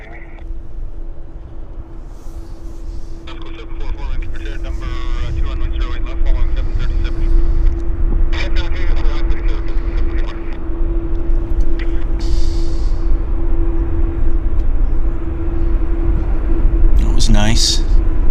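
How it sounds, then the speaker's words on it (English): A WestJet Boeing 737-700 on the runway at Vancouver airport gives off a steady, low, distant jet rumble that builds slightly over time, while people talk over it throughout. "It's a WestJet 737-700."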